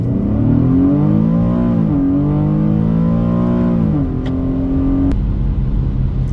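An Infiniti G37 in sport drive mode accelerating hard, its engine note climbing loud and close through several gears, each shift bringing a brief drop before the rising whine resumes.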